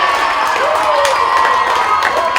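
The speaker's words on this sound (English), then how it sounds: "Tassie fans are up and cheering." Football fans cheering after the siren at an A-grade grand final, a loud, sustained crowd roar with shouts and a whistling tone, heard from within the crowd.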